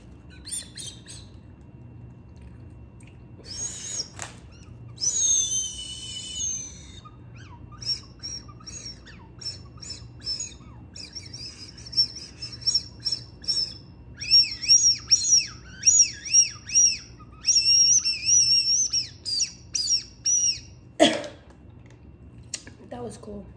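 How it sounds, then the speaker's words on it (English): Thin, high whistling tones from a whistle candy, sounding when sucked in or blown out, come in short repeated bursts, some wavering, mixed with chewing and mouth noises and occasional talk. "If you suck in or blow out, it whistles."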